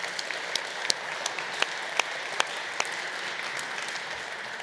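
Audience at a Drupal conference talk applauding, a steady wash of many hands clapping with some louder individual claps standing out, no voices over it.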